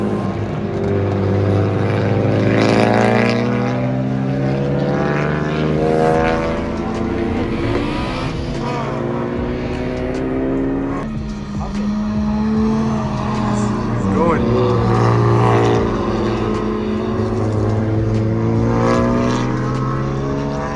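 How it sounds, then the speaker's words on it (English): A Genesis car laps a race track during a track day at Stratotech, its engine droning steadily and rising and falling in pitch as it accelerates and brakes, heard continuously from outside. "kind of cool to see my car go around the track here as well"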